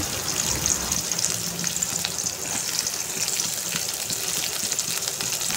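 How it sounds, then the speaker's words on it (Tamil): Chopped onions sizzling in hot oil for masala semiya, a steady, close hiss of frying that holds at an even level throughout, with no voices. "இப்போ எண்ணெய் காஞ்சிடுச்சுங்க, வெங்காயம் போட்டுக்கிறேன்"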